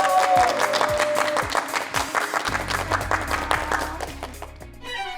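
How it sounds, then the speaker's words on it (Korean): Applause from the audience for two lecturers at a televised regional forum, a broad clapping wash mixed with music tones and some voices, fading toward the end. "다시 한번 큰 박수 부탁드리겠습니다."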